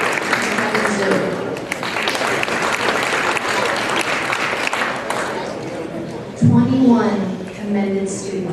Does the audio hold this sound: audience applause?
yes